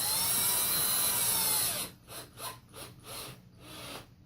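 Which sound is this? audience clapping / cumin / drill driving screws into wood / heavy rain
drill driving screws into wood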